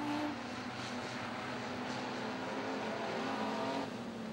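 Sydney Speedway race cars run the A-Main, engines droning steadily at a distance, one car's note rising slightly and then dropping as it passes down the back straight, with a constant rumbling background.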